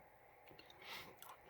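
Someone chewing a premium mix mochi ball with rice cracker and peanut pieces, giving soft, close crunchy bites in a short quiet burst with a louder crunch near the middle.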